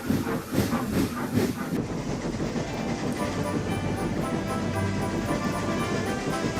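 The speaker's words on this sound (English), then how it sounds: "So Stevie puffed smoothly out of the station, and Megan followed." An animated steam engine puffs out of a station in a snowy children's cartoon setting, a steady chuffing and hissing rumble with rhythmic clatter, loud and continuous, sitting under background music.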